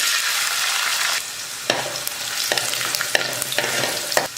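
Garlic fries in a pan with fenugreek and mustard seeds for a fenugreek curry, giving a loud, close hiss and several sharp spatula scrapes that come at a steady stirring rhythm.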